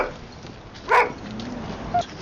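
A single dog bark rings out sharply above a low background hum, with a fainter, shorter yip following about a second later.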